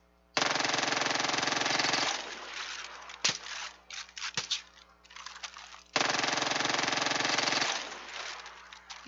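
Sustained automatic gunfire in the video game Far Cry 5, shooting at blue barrels: two long, loud bursts separated by a stretch of scattered shots and impacts, with no talking over it.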